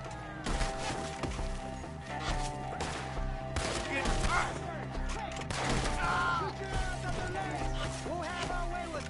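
Gunfire in Red Dead Redemption 2 rings out as a dense, loud fusillade of repeated shots and cracks across the whole stretch, with voices shouting over the battle.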